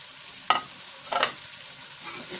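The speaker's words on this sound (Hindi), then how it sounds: "अब प्याज को मिक्स कर देंगे।" Onions stirred into turmeric frying in a pan for a bitter gourd (karela) sabzi, with two short scraping stirs over a steady soft sizzle, near and fairly quiet, no voices.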